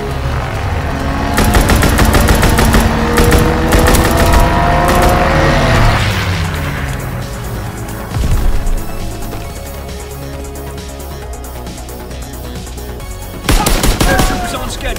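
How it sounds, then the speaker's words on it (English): Strafing-run gunfire in Call of Duty WW2, loud dense bursts of rapid automatic fire with booming impacts and a roaring pass, a lull, then another burst at the end. "Strafing run inbound."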